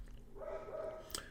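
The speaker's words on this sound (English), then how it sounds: "my dogs are in the background giving advice on what move should be played" Dogs in the background give a brief, faint whine or bark, a single soft drawn-out cry lasting under a second in a quiet room.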